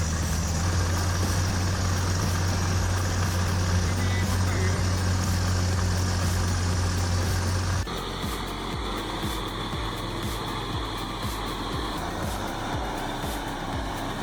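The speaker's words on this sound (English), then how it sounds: "The more throttle applied, the more the machine digs itself deeper into the ground." A heavy logging machine's engine revs and drones steadily while its massive tires spin in deep, soft mud, a loud continuous mechanical roar that shifts in tone partway through.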